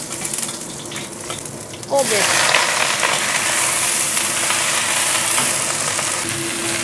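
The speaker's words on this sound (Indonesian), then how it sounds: "Tumis jamur dan telur. Lailo. Kan minyak, bawang putih" Mushrooms and egg stir-frying with garlic in hot oil, starting abruptly as a loud continuous sizzle that holds steady after a short stretch of quieter kitchen noise, with a voice speaking briefly.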